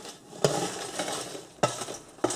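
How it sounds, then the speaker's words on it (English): Oven-cooked chips are tipped onto a plate with three sharp clattering impacts spaced over about two seconds, each followed by a short rattle of chips against crockery, close and fairly loud with no talk. "And I'll dish these onto the plate now as well."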